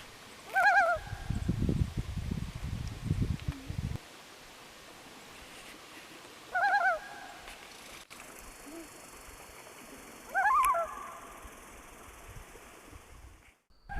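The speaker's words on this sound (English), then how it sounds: "Once in a while, you'll see loons come from all over the place and gather together on one lake." A group of loons calls across a lake in Killarney, with three separate bursts of wavering cries spread through the quiet, clear but somewhat distant. A low rumble sits under the first few seconds.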